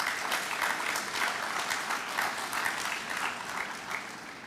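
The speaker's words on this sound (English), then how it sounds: "I would like us to give them a hearty round of applause" Audience at a hospital central block completion ceremony gives hearty applause, a loud, sustained wash of many hands clapping together, steady throughout and easing slightly near the end.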